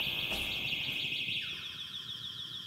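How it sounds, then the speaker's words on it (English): An electronic alarm in a video game rings in a high, pulsing tone, steady at first, then a sweep drops in pitch and the alarm continues more faintly. "I set the alarm off."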